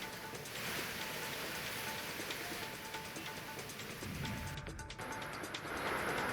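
Steady evening rain pours down in Raigad in a continuous wash, with heavier gusts and a faint hum in the background, no speech.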